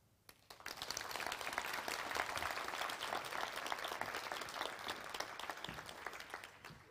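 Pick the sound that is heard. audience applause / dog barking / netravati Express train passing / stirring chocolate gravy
audience applause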